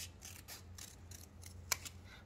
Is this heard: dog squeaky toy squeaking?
no